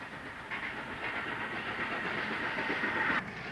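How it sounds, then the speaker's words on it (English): A 1940 Indiana Railroad interurban car leaves the Indianapolis terminal and runs on street track, giving a steady rolling rumble and hiss with a faint rhythmic clatter, near and even, ending in an abrupt cut. "Heading south to Columbus, Car 82, Train 20, has just left the terminal."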